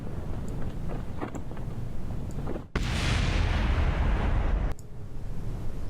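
Rocket engines in Kerbal Space Program cut out: a steady roaring rumble gives way at once to a louder, broad burst of noise lasting about two seconds, then the sound drops sharply and continues at a lower level.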